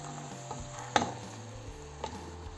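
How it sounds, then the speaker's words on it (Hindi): Cooked rice and vegetables for restaurant-style egg fried rice are mixed together by hand, with soft, steady stirring and a faint sizzle, plus a couple of light knocks, with no voices. "इनको अब दोनों हाथ से मिक्स करेंगे।"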